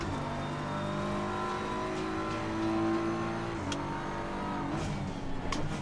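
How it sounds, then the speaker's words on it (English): Ferrari race cars in Assetto Corsa Competizione roar steadily around the track, engine tones rising and shifting with gear changes, loud and close with no talking. "Two Ferraris going well around here."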